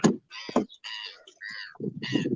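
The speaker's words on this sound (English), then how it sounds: "Nope. That's some seagulls." Several seagulls call outdoors, with a run of harsh, nasal cries in quick succession, fairly close and loud, mixed with rough low squawks at the start and end.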